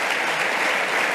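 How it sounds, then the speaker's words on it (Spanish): Dense, steady applause fills the hall at an award ceremony for a family business prize, a continuous wash of many hands clapping with no pauses. "Aplauso para ellos."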